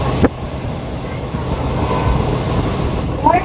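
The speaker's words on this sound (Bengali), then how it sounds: "ট্রেন ঢুকছে" An express train rolls into a station near Jaunpur, its steady rumble of wheels on rails filling the foreground, with a brief squeal and sharp metallic clicks near the start and end.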